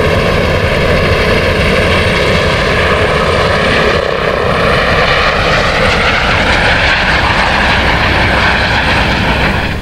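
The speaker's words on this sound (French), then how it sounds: "Il y a un hélicoptère qui décolle là, il fait du bordel." A helicopter lifts off at a desert rally raid, a loud, steady rotor and turbine roar filling the whole stretch without a break, close and dominant throughout.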